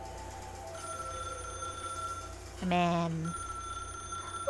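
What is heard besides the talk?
telephone ringing in the video game Path to Nowhere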